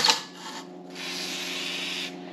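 A hone scrubs the cylinder bore of a 1988 Honda CR250 engine during a rebuild, a steady close abrasive whirring that pauses briefly and then continues for over a second.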